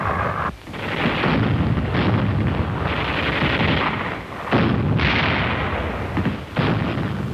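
Heavy artillery fire pounds the Iwo Jima beachhead in a wartime newsreel, loud continuous booming and rumbling barrages with brief lulls, no voices.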